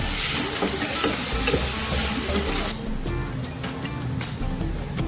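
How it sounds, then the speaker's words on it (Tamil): Onions and curry leaves sizzle and crackle in a pan for a village-style stingray fish curry, a steady dense fry with stirring scrapes, the hiss easing slightly partway through. "இப்போ நம்ம வெங்காயத்தை நல்லா வதக்கணும்"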